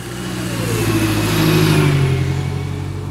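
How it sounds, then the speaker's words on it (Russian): City bus on route 120 passes close by, its engine a loud steady drone that swells and then fades slightly, with no voices over it. "Вот видите, 120-й автобус привезет вас в Лахтинский разлив."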